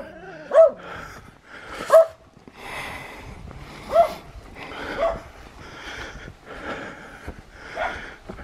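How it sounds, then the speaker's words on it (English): Dogs bark in a loose, irregular series, several sharp barks a second or two apart, moderately close over quiet outdoor ambience. "more dogs down there"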